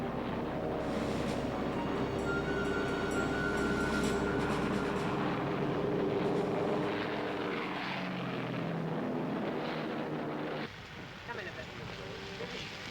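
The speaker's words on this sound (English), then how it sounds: "A trio of heavily armed four-engine bombers, the Stirling, Halifax and Lancaster, were carrying the war back to the German people." RAF four-engine bombers of the Stirling, Halifax and Lancaster types drone steadily with a dense roar of propeller engines. The engine noise fades partway through and continues under a man's speech.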